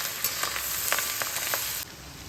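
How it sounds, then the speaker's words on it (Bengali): Fish roe fries in a hot pan with bitter gourd, potato and onion, giving a steady close sizzle broken by brief scraping stir strokes, then settling into a quieter hiss. "ভালোভাবে মিশিয়ে নিয়ে 5-7 মিনিট মতো আমি ভেজে নেব"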